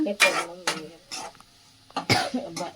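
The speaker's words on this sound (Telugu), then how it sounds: "దగ్గు వస్తుంది." A string of about five sharp, close coughs, a few of them harsh and throaty, separated by short pauses.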